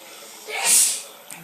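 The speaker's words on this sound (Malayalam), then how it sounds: "അവന് തുമ്മുന്നുണ്ട്." A young boy sneezes once at close range in cold evening mist, a short breathy burst that swells and fades, followed by a faint click.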